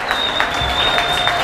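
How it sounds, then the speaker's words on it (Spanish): An audience at a rap improvisation event in Rosario applauds the musicians, a dense, close burst of clapping lasting a second or two with a faint high tone beneath. "quiero un fuerte aplauso para los músicos, por favor."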